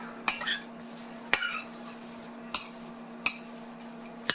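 A sauce with sesame seed oil stirred in a pot, five sharp spoon clinks against the rim at a slow, even pace over a faint low hum and quiet scraping, close up with no talking.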